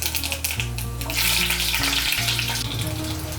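Black cumin seeds and a green chili tempered in hot oil sizzle continuously and fairly loudly up close, the crackle swelling midway, with background music running underneath.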